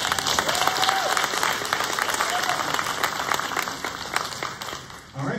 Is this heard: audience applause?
yes